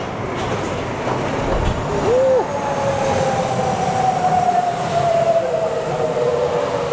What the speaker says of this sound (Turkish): Geldi metromuz.